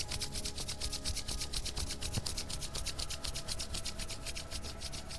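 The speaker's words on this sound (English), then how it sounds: "You really want to rub your hands such that you are generating heat between your palms." Hands rub together quickly and hard, a close, rhythmic rasping swish repeating several times a second for about five seconds.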